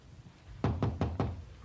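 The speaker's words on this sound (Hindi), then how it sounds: "बेटे फहमी बेटे दरवाजा खोलो।" Four firm knocks on a wooden door in a 1991 Pakistani TV drama, evenly spaced and close, sounding alone over a quiet room.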